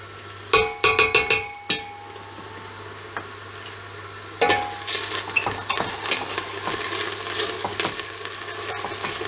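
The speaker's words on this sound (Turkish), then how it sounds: "Salçayı kavuruyorum." Tomato and pepper paste frying over onions in a pan, starting with a quick series of sharp metal spoon clinks against the pan, then a steady crackling sizzle with scraping stirs, close and clear.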